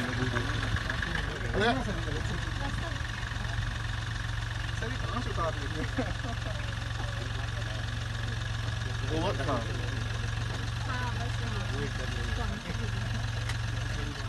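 A car engine runs steadily as newly trained women drivers in Rajgarh take officials riding in the back seat, a low constant hum throughout with voices talking faintly over it.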